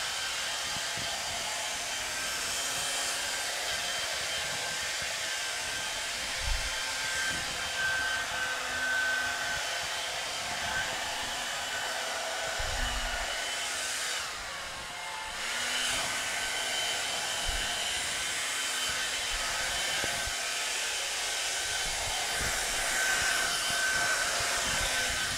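A hair dryer runs steadily on a low, cold fan setting for a long stretch, drying freshly applied varnish on a table being prepared for painting, with a brief dip partway through.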